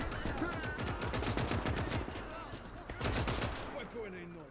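Dense gunfire in the WWII video game Call to Arms: Gates of Hell during a Soviet advance in 1944, rapid machine-gun bursts and scattered rifle shots crackling steadily with battle noise, with faint talk mixed in.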